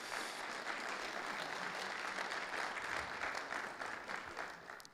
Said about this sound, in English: Round of applause for Kevin, please.